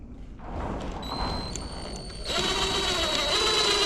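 A drill drives a screw into a wooden cabinet drawer below the groove, a steady close whirring motor that picks up and grows louder and higher-pitched partway through as the screw bites, with no talk.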